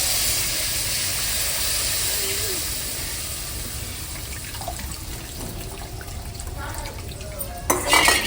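Soaked tamarind water poured into a curry pan while making sundakkai vathal kuzhambu: a steady, close rushing wash of liquid that continues throughout, then turns into a brief clatter of stirring near the end.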